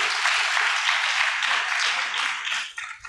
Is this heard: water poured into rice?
no